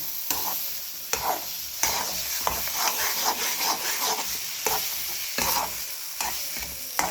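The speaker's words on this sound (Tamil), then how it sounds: "இப்படி ஒட்டாமல் வர வரைக்கும் கிண்டணுங்க பாத்திரத்தில் ஒட்டாமல் வரணும்" Red poha kesari is stirred in a pan with repeated scraping strokes of a spoon against the metal over a soft sizzle, a close, rhythmic series of rubbing sweeps.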